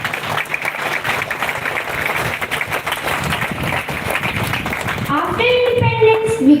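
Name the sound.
applause from the audience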